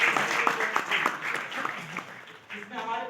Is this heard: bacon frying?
no